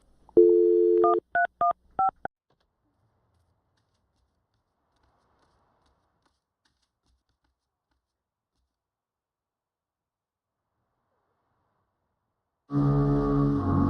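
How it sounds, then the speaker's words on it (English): In the life simulation game inZOI, a dial tone followed by a short burst of telephone keypad tones, then long silence before a buzzing ring starts near the end. "Any last thoughts before I dial her phone?"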